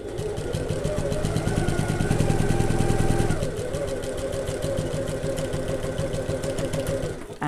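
A sewing machine stitches a handbag seam, its rapid mechanical needle rhythm running steadily close by, shifting speed partway through after a pivot, with no talk.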